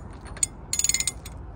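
A large ratchet clicks rapidly as it tightens a new drive shaft on a Mk4 Volkswagen Golf VR5, a short close burst of about eight sharp metallic pawl clicks after a single lone tick.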